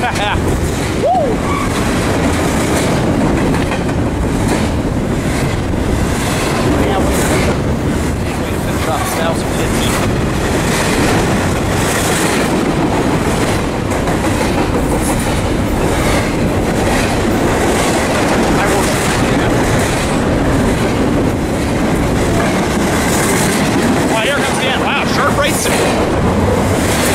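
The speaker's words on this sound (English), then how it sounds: "Four freights in less than 40 minutes here in Fullerton, not bad." A heavy BNSF freight train rolls past at Fullerton, producing a loud, continuous roar with rhythmic clickety-clack of wheels over rail joints that holds steady throughout.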